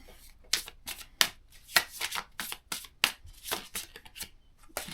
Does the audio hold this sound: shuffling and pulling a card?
yes